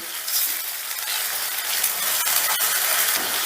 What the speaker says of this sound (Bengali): এবারে পেঁয়াজটাকেও একটু কষিয়ে নেব ধরো দু তিন মিনিটের মতন কষিয়ে নেব